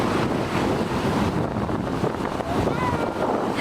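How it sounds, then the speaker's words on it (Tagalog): Sea waves and strong wind at Bayawan beach, a continuous roaring wash with heavy wind buffeting the microphone and faint voices in the background. "Ini siya ang dagat sang Bayawan."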